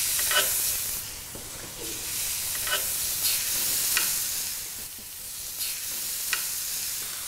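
Meat sizzles steadily in a hot pan on a barbecue, a dense, close hiss with brief crackling bursts and occasional stirring or shifting sounds, no talking.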